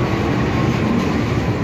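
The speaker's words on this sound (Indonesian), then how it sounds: "Nah, ini kereta api telah datang di stasiun Porong" Commuter train pulling into Porong station in East Java, a steady loud rumble of wheels and carriages close by, with no voices over it.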